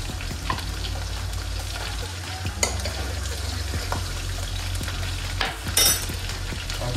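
Chopped garlic and cut green chili fry in a pan for a vegetable Manchurian, making a continuous close sizzle with occasional stirring scrapes and clinks, and no talking.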